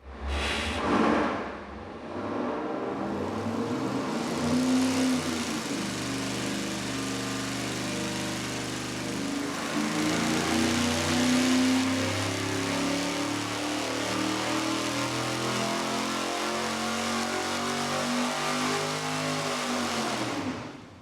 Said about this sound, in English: we're gonna fire it up and give you the baseline with our single 4-barrel and Victor Jr. intake manifold